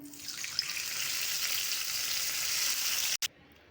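Hot oil tempering crackles and sizzles loudly as it is poured over kadhi (curry) in the dish, a dense steady frying hiss that cuts off abruptly at the end.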